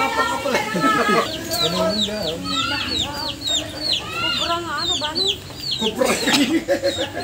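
Chickens cluck and call busily around a chicken nest, with many short, rising bird calls overlapping near and far, while someone speaks briefly over them.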